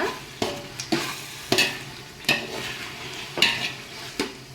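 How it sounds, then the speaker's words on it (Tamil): Chicken coated in masala is stirred in a pan for biryani: steady sizzling under evenly spaced scraping strokes, roughly one every second, loud and close with no voices. "இந்த கறியை ஃபுல்லாக நாம் இந்த மசாலாவோடு சேர்த்து நல்லா கிளறி விட்டுப்போம்"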